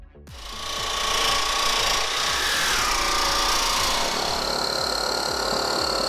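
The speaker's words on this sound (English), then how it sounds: "then tracing it onto aluminium sheet and cutting it all out into one big piece" Power cutting through aluminium sheet for a fuel cell build in a backyard workshop: a loud, steady, buzzing cut that holds for about six seconds with a rapid chattering texture, close by and with no voices.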